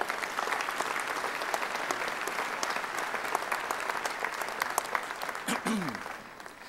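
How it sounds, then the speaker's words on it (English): A church congregation gives a speaker a round of applause as he comes to the rostrum. The clapping is dense, steady and close, then thins and fades out at the end as a voice briefly cuts in. "Let's bring him to the rostrum with a round of applause."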